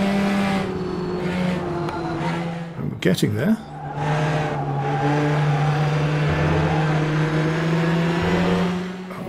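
A Formula Trainer open-wheel race car in the Automobilista racing game holds a loud, steady engine whine with gear-shift pitch changes and a brief rattle over curbs midway, close and continuous while someone talks.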